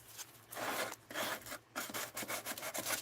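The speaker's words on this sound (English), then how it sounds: "gonna sand this" Hand sanding of wood in a craft studio: soft, rhythmic rasping strokes in short bursts, close and fairly quiet, with no voices.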